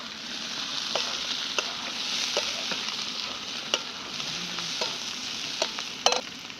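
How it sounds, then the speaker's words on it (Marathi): Food frying with added turmeric gives a steady, close sizzle, broken by occasional sharp clicks and scrapes of a spoon stirring the pan; no speech. "आता जरा हळद टाकून हलवून घेणार आहे"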